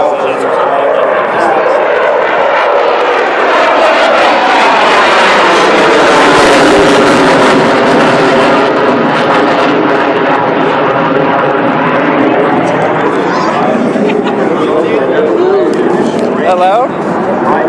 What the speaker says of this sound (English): Reach to a center and fly full afterburner.